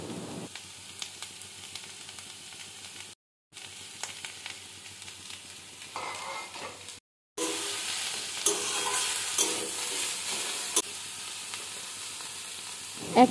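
Oats khichuri with chopped tomato and green chilli frying in a pan, a steady sizzle with repeated scraping strokes of a spoon stirring, broken by two brief silent gaps before the frying grows louder and brighter.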